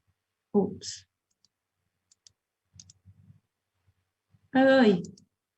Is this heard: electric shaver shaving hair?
no